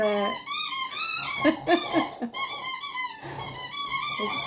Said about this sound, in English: My dog sounds like a gremlin.